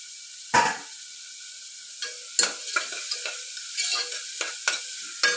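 Chopped onions for vegetable biryani hit hot oil and are stirred in a pan, giving sharp sizzling bursts and scraping stirs at an uneven rhythm, close and alone without speech.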